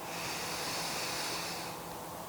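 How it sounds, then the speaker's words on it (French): A slow, deep breath drawn in during a calm yoga session, a soft steady airy hiss lasting about two seconds with no talking. "On inspire."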